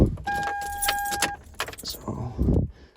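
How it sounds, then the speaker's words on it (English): Car keys jangle and rattle close up as they go into the ignition of a Toyota Tacoma pickup. A brief clink is followed by shuffling handling noise and a short spoken remark. "So I can go ahead and throw the keys in."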